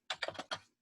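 A quick run of about five crisp keystrokes on a computer keyboard while Python code is entered, close and quiet, then silence.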